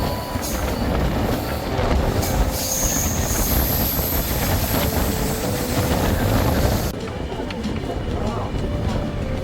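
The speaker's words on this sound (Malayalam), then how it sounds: "ഇപ്പൊ നമ്മുടെ ട്രെയിൻ സ്ലോ ഇല്ലാണ്ട് പോകണം" Patna Express passenger train rolling along the rails, a loud steady rumble with rattling carriage noise and faint wheel squeal throughout, with voices talking over it.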